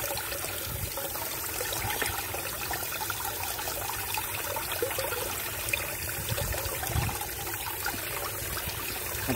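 Water trickles and sloshes as it washes quail droppings through a wire mesh, a soft continuous running-water hiss with small splashes, fairly faint and steady throughout, no voices.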